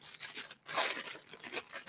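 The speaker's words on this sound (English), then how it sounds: "Keep rustling." A bag rustles and crinkles close by as RC race gear is unpacked, giving uneven bursts of papery crackle and one louder tearing swish, with no talking.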